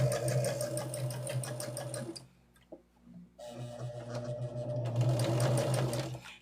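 A sewing machine stitches a quilt block with a rapid, even mechanical chatter, pausing for about a second before running again at a steady pace.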